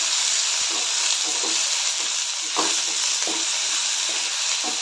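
Onion, tomato, curry leaves, garlic and crushed ridge gourd peel fry in a pan with a continuous bright sizzle and a few stirring knocks, close up.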